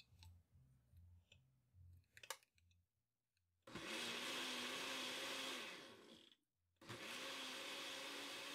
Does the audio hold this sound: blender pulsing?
yes